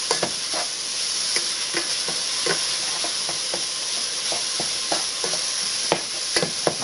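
Chopped onion cooks with 80-20 ground beef in a pan for a tomato meat sauce, a steady sizzle broken by repeated sharp scrapes and knocks of a utensil stirring, close and unaccompanied by talk.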